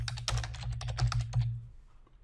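Quick bursts of keystrokes on a computer keyboard, close and clear, typing a short search phrase in about two seconds before going quiet, over a low steady electrical hum.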